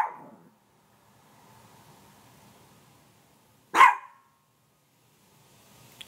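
A single sharp dog bark rings out close by, preceded by a faint yelp, with near silence around it.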